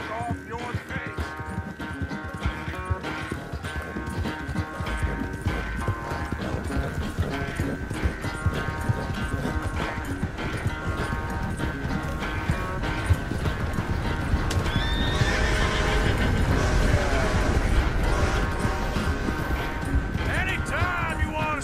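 Horse hooves clip-clop steadily through the Red Dead Redemption 2 game world, with a horse's whinny and neigh rising above a dense bed of music and ambient game sound, while voices talk over the top.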